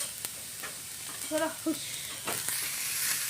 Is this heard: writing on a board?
no